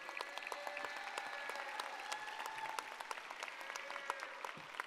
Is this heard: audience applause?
yes